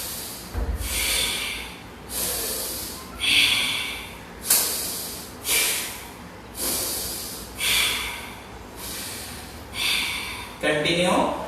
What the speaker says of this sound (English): let's do 10 round of 10 strokes of Bhastrika pranayama